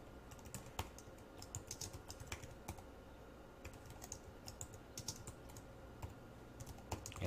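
Someone types on a computer keyboard while entering JavaScript code. Irregular bursts of light key clicks run throughout, close and fairly quiet, with no talking.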